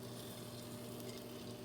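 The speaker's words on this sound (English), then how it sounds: "Can you hear that sizzling?" A pork chop sizzles in an air fryer, a soft, constant hiss with a low fan hum under it, and no voices.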